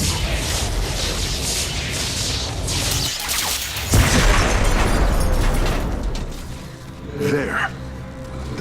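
Loud in-game explosion as the power structure is destroyed in StarCraft 2: Legacy of the Void, a heavy boom with crashing debris under a continuous bed of game music and effects, with talk over it.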